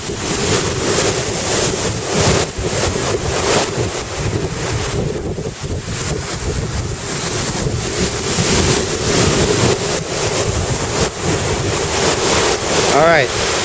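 Big ocean waves breaking at Lamai Beach, Koh Samui, a loud continuous roar of surf heavily mixed with wind buffeting the microphone, steady throughout.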